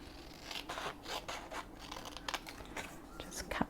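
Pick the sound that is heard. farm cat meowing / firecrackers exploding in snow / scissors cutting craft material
scissors cutting craft material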